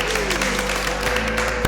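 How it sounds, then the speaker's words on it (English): An audience applauds, a dense continuous wash of clapping that holds steady and loud throughout the short stretch. "Clap it up."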